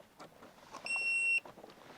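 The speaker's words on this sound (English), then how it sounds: "So you literally just plug it in and it will beep" A single clear electronic beep from a small handheld car diagnostic scanner as it is plugged in, about half a second long and tonal, rises above faint background noise and then stops.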